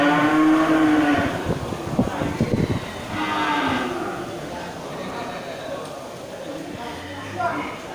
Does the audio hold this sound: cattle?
yes